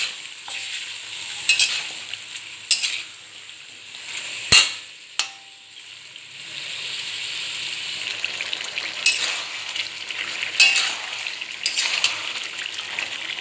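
Chicken curry meat being sautéed in a pan for a simple home curry, with a steady sizzle and frying hiss and several sharp scrapes and knocks of a spoon stirring against the pan.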